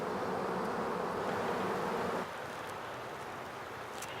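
A honeybee swarm buzzes around a hive box in a dense, steady drone that drops slightly in loudness partway through.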